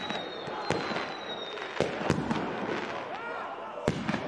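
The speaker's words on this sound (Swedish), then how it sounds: "utanför arenan fyrverkerier här också som ni kanske ser där på himlen" Fireworks burst outside a football arena during a promotion celebration: repeated sharp bangs and crackles at irregular intervals over a dense, noisy crowd din, with a whistling rocket near the start.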